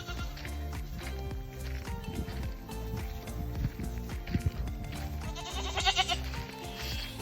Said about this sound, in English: Being greeted by the chorus of the goats.